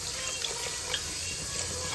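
Water poured from a glass into a pot of radish sambar, a steady, close, continuous splashing pour filling the whole short stretch with no voices.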